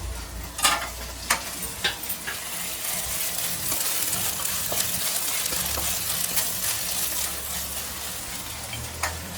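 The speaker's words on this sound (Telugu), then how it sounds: "వేగిందా అల్లము?" Ginger fries in a pan for a potato, prawn and egg curry, an even close sizzle broken by several sharp spatula knocks against the metal early on.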